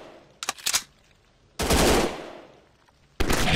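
Gunfire in a mobile first-person shooter game: a quick double-shot crack, then two loud blasts, each ringing out and fading, separated by near-silent pauses.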